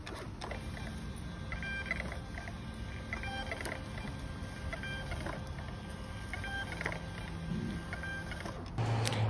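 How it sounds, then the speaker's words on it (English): A label printer whirs steadily as it feeds and prints shipping labels, a continuous mechanical drone with faint rhythmic clicks, close and moderately loud with no talking. "I'm just gonna print off some of the labels"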